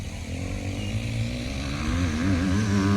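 A 250cc motorcycle (250R) engine drones steadily at speed, close and loud, its buzzing pitch climbing and wavering as the revs rise toward the end.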